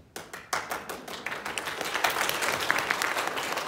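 Church congregation clapping together in a steady, building rhythm, the claps thickening into dense continuous applause with a few sharp accents, loud and close.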